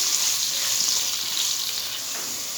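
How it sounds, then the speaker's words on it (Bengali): Potatoes seasoned with turmeric and salt fry in oil in a pan, giving a soft, steady, close sizzling hiss with no distinct pops. "আলুটাকে আমি লাল লাল করে ভেজে নেব।"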